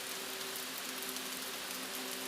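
Steady, soft rain hisses quietly and evenly throughout, with a faint low hum of drone tones beneath it and no voices.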